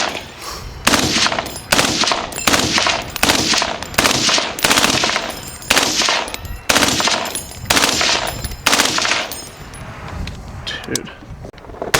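Civilian-legal FightLight MCR belt-fed gun with a forced-reset trigger, firing in repeated rapid bursts of loud, sharp, near shots spread across the clip, with brief gaps between strings and some talk underneath.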